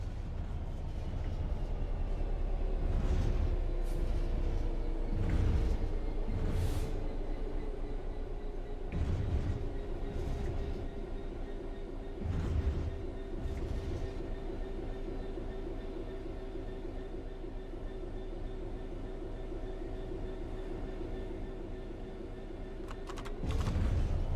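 In Train Sim World 3, a train coasts on level track under zero throttle with a steady low rumble and a droning tone that falls gradually, overlaid by intermittent clicks and clacks of keyboard presses before cutting off.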